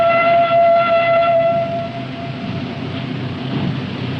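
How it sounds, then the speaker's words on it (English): A train departing in the distance as a radio drama sound effect: a drawn-out horn or whistle tone that fades over the first two seconds, then a steady rumble of rolling rail noise, with no talk. "Faintly, from a distance, there comes the sound of a departing train."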